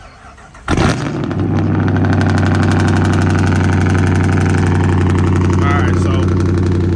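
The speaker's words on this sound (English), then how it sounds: "Oh, cold start, y'all." A Chrysler 300C with a 5.7-liter V8 cranks briefly and fires in a cold start, flaring loudly, then holds a strong, steady, rumbling high idle up close.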